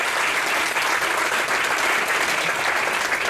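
Enthusiastic applause from a large audience, a dense, even wash of clapping that holds steady from start to finish.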